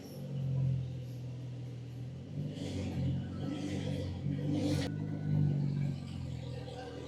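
A Porsche GT2 RS pulls up with a steady mid-pitched engine rumble and some revving, fairly close and continuous, while a few voices and other noise rise over it near the middle.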